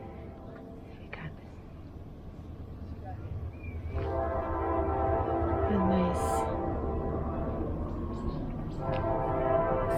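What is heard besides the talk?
train passing by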